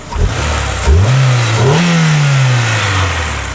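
A 2001 Honda S2000 AP1 engine, recently given a new VTEC solenoid and gaskets, blips sharply from idle twice, rising quickly in pitch and falling back to a smooth, close idle.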